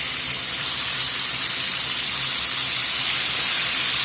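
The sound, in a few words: chipotle chicken wings frying in oil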